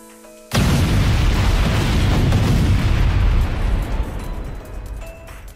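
A laser shot blast from the video game Blue Archive erupts suddenly as a loud, booming explosion that rumbles on for several seconds before slowly fading, with no voices over it.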